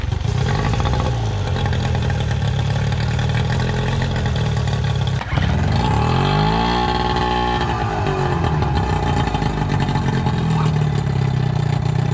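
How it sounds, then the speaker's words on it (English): A Yamaha 15 horsepower two-stroke outboard engine runs loud and close while warming up, a steady buzzing idle that briefly dips, then rises and falls in pitch as it revs before settling back. "The proper way to warm up the 2-stroke."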